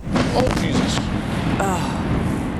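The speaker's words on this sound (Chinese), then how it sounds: "远方传来爆炸巨响" Muffled distant booms and rumbling blasts of missiles striking Tel Aviv at night roll in over outdoor noise, with voices and shouts mixed in nearby on a rooftop.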